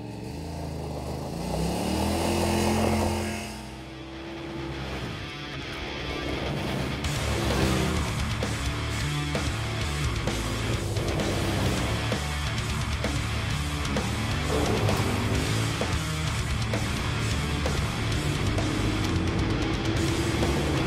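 An off-road vehicle pulls away and drives out on a dirt course, its engine rising and falling through loud revs, then holding a steady, close roar for the rest of the run.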